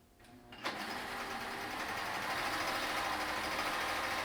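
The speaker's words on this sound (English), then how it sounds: "We're going to sew only one side at a time." A sewing machine stitches fabric face masks, starting with a click and then whirring steadily and evenly at moderate volume, with no voices.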